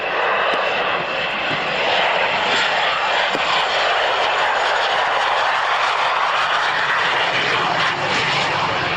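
Airbus Beluga transport aircraft taking off and climbing at an airshow, its engines a loud, steady broadband roar that holds for the whole stretch with no voices over it.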